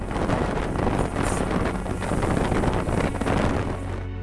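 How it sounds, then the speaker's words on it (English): A strong, brutal side wind buffets a Versys 650 motorcycle on the road, making a loud, continuous rushing roar against the microphone that runs unbroken throughout. "The wind kept blowing for quite a while"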